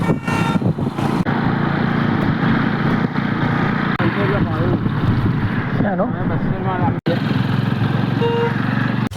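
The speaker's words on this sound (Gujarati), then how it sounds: "હાલ ટ્રેક્ટરનો અવાજ લગભગ આવતો છે ને" A tractor engine running nearby in a rural Gujarat setting, a loud, steady low mechanical drone with rattling texture that continues throughout while someone talks over it.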